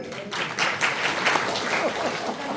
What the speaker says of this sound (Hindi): ताली बजाइए उस महिला की।